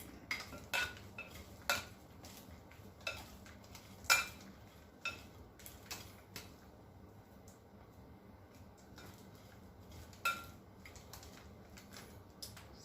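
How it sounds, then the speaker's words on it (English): Asparagus being tossed with oil and seasonings in a bowl: quiet, irregular clinks and scrapes of a utensil against the dish, with soft sloshing between them and no talk. "we'll just mix it with our oil and all your ingredients just like that"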